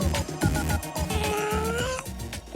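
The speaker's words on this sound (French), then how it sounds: "y a un chat dans les studios." A cat meows repeatedly, drawn-out and wavering, inside a radio studio with a steady background bed of music or noise beneath, and no one speaking.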